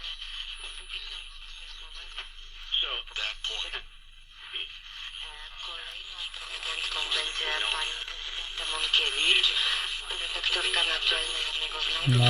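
A faint AM station plays through a Panasonic R-77 portable radio tuned near 1000, thin and distant voices and music warbling under hiss and static, fading in and out.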